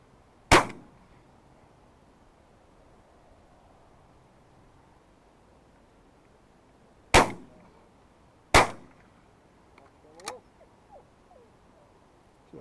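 Three loud, sharp shotgun blasts ring out during wood pigeon shooting in September, one early and two close together later, each with a short echoing tail over quiet outdoor ambience, followed by faint movement and a brief voice.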